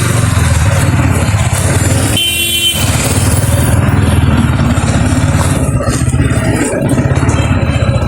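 Yamaha MT15 motorcycle ridden on a badly broken road with the clutch held, its engine a loud continuous rumble with rattling, and a horn blast partway through.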